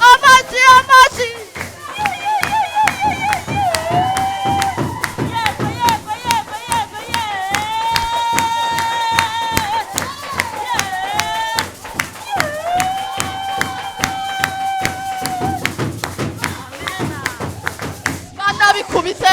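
A church congregation claps hands in a steady, fast rhythm, sharp claps repeating throughout, under loud singing and chanting voices.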